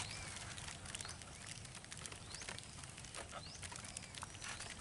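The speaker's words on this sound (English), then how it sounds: "that is the sound of the fish eating the azolla" Fish eat azolla at the surface of a pond, making a dense, soft crackling and popping like a small fire. It is faint and continuous, with scattered bird chirps in the outdoor background.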